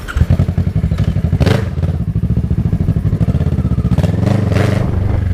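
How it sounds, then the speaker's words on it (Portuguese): A Kawasaki ER6N motorcycle engine runs loud and close in evening traffic, with a fast, choppy pulsing beat and repeated surges of revving that swell and fall back. "Vocês não têm ideia o barulho que essa moto está."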